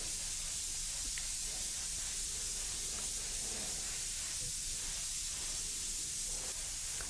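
Airbrush spraying Auto Air Colors 4400 Series paint onto practice helmets, a steady soft hiss that runs without a break from start to finish, close by and fairly quiet.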